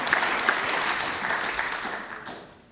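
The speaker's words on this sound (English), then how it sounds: "Please welcome him with a big round of applause." An audience at an audit conference claps loudly and steadily for a couple of seconds before the applause fades away.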